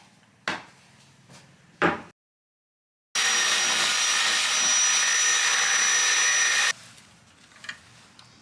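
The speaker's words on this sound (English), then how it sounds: "So I will start welding and hopefully get them done very soon" Welding on damper parts for a Mercedes 609D campervan: a steady, loud, hissing arc runs for about three and a half seconds, with a few sharp knocks and clanks before and after.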